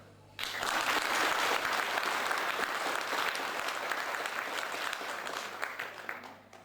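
A concert audience at a Barbórka miners' celebration breaks into loud, sustained applause that starts abruptly and holds steady for several seconds before tapering at the end.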